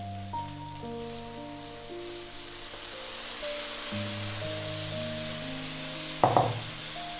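Chicken sizzles and crackles steadily in a hot pan for an asado stew under soft background music, then a sharp, louder splash and hiss flares briefly as marinade is poured in near the end.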